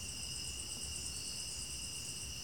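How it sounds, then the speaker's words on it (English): Cicadas buzz steadily in a pine forest, a continuous high, pulsing drone that stays even and fairly close throughout, with no voices. "The cicadas in the background really add to the forest, huh?"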